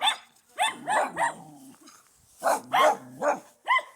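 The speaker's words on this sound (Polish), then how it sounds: "Są pieski." Dogs near an abandoned, burned house bark in two loud, close bursts of sharp barks separated by a short pause, with no one talking.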